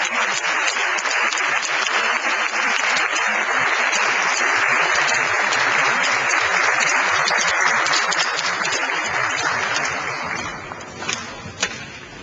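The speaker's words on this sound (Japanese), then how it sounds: "大きな拍手を持ってお送りくださいませ" An audience at a public debate on 2012 Okayama governor-election manifestos applauds as the panelists and coordinator leave, a dense sustained applause that holds for about ten seconds before thinning out at the end.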